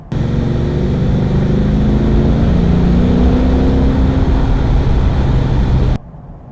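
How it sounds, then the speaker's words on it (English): Ford Mustang GT V8 engine: a loud, close, heavy droning rumble that swells slightly and holds for about six seconds, then cuts off abruptly. "What does the V8 sound like?"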